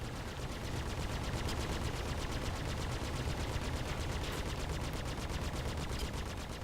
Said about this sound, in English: Our one trusty gun that's doing all this damage.